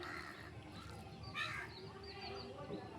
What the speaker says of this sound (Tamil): காக்கா கூட பசிக்குதாங்க ஃப்ரெண்ட்ஸ்